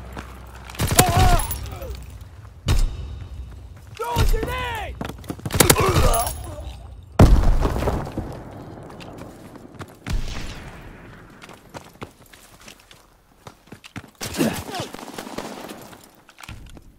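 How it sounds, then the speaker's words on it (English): Strafing-run gunfire from a fighter aircraft in Call of Duty, several loud bursts of rapid shots with crackling impacts, separated by quieter gaps, with a voice speaking in between. "Fighter pilot inbound. Strafing the target."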